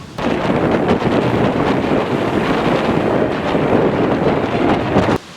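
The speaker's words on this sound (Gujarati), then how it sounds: "આ પવને તો ભૂકા કાઢી નાખ્યા, બહાર નો નીકળાય." Strong wind roars steadily against the microphone, a loud, constant buffeting rush that stops abruptly just before the end.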